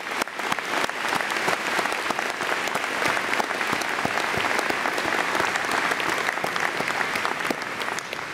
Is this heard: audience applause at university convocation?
yes